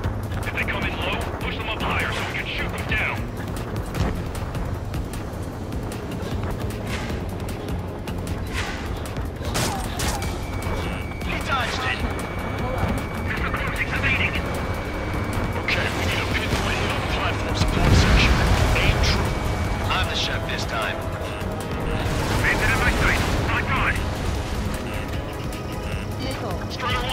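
In the jet combat video game Ace Combat 7, aircraft guns fire in repeated rattling bursts over a steady engine roar, with radio voices talking throughout.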